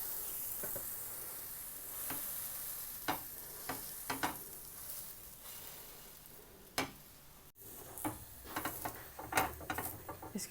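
Buttered chicken sandwich heating on a non-stick grill pan, giving a faint steady sizzle with scattered light clicks and scraping taps from handling.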